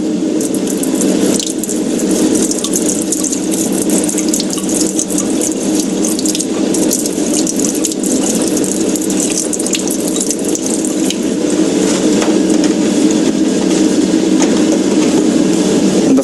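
Steady stream of distilled deionized water rinsing a silicon wafer at a lab sink, continuous hissing flow without a break, close and loud.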